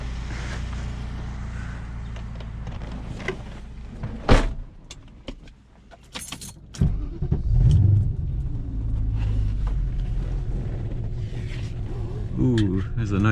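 A BMW E34 with a V8 pulls away from an abandoned gas station: door and window sounds and clunks give way to the engine rumbling up and accelerating, with a voice speaking over it.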